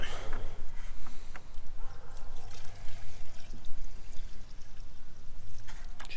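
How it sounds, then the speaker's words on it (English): Water poured into a container of bubbling, fermenting chicken feed, a steady trickling pour running for several seconds at close range with faint birds in the background. "Let's add a little bit of water to it."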